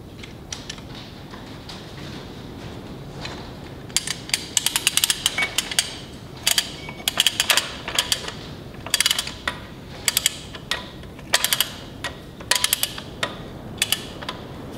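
A ratchet or torque wrench clicks in quick bursts while bolts are tightened on a Mack R686ST truck under restoration, sharp close ratcheting clatter in repeated short runs over a quiet shop background.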